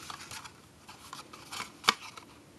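Scissors cut a paper mini pizza box along its scored lines, giving a few faint papery snips with one sharper cut standing out near the end.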